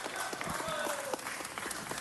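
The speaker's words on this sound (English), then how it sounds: "So let's give that a big round of applause." Attendees at a city council meeting give a round of applause, a continuous patter of many hands at moderate distance, with voices audible underneath.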